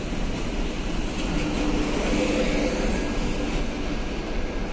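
Passenger train 534C from Adler to Moscow arrives at Paveletsky station, a steady, loud rolling rumble of wheels and carriages that carries on without a break and with no voices.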